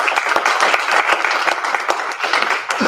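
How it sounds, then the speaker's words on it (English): An audience applauds a panelist at an evening education event, with brisk, close, overlapping clapping from a modest crowd that stays lively throughout the moment. "Let's give him a round of applause"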